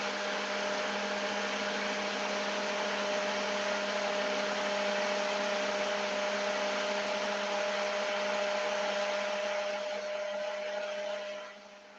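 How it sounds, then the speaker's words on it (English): Ninja blender whirring at a steady high speed while blending flax seeds with water, a loud continuous motor roar that cuts off and winds down at the end. "the ninja blender here for this one"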